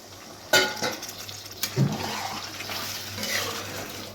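Water is poured into a pot of goat fat cooking for a recipe, a sharp clank followed by splashing and gurgling liquid that settles into a softer simmering wash.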